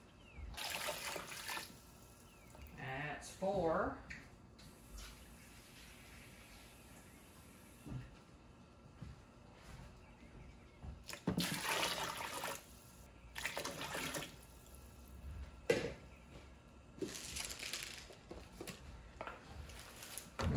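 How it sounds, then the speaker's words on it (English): Tap water runs and splashes into a large pot in a kitchen while beef bone broth is made, several separate bursts of filling with quiet gaps between them. A person speaks briefly now and then. "I'm gonna actually put in 7 quarts of water because I want to get out 7 quarts of beef broth."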